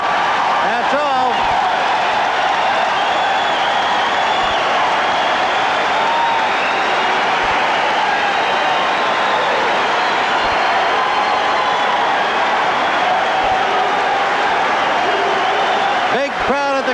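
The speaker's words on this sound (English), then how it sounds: "Big crowd at the convention center enjoying the tremendous effort by Kenneth Gould." A large crowd cheers at a convention center during a 1987 Pan American Games boxing final. The roar is loud, dense and steady throughout.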